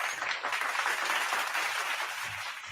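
Applause greeting a podcast guest, a short continuous wash of clapping at even loudness throughout, with no voices over it.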